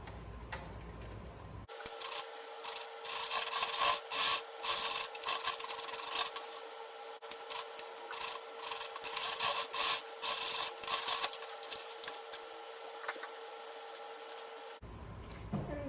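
A home sewing machine stitches elastic ear loops onto a fitted reversible fabric face mask, a quiet steady whir with soft ticking that runs for about thirteen seconds before stopping.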